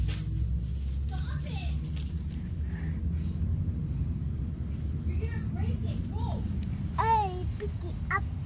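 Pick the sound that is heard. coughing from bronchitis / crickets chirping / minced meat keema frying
crickets chirping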